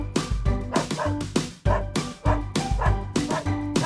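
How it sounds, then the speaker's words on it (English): A dog gives a quick series of sharp yipping barks, loud and close, in several bursts with short pauses between them. "Dog."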